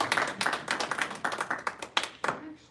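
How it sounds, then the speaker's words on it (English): Audience at a hypnosis day event claps in a round of applause, a fairly close burst of hand claps that tapers into a few scattered claps near the end. "Give them a round of applause"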